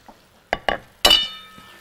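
A spoon scrapes and clinks against a pot of zucchini, potato and freekeh stew with tomato, giving a few sharp close taps followed by a brief ringing, and no talking.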